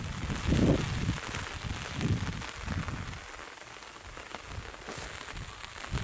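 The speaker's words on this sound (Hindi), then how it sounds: "और बारिश बहुत तेज़ हो रही है" Heavy rain pours down on a farming village, a dense steady hiss of drops hitting surfaces with a few louder gusty swells early on, heard close and alone.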